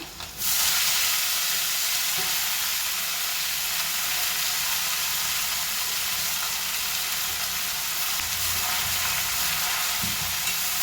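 Red amaranth leaves go into a hot tempering of mustard seeds, dried and green chillies, and the pan breaks into a loud, steady hissing sizzle, with a couple of soft stirring knocks, and no voices.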